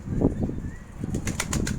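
Released birds flap their wings in flight, a few quick soft bursts of wingbeats at middle distance, faint against light outdoor background noise.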